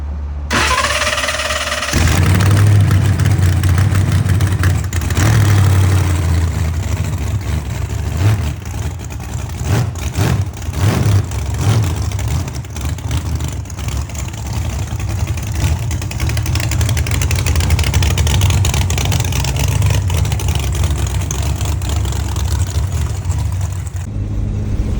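Race car Skid Mark's engine idles loud and close, its lumpy rumble rising into repeated revs before settling back, with no talk over it.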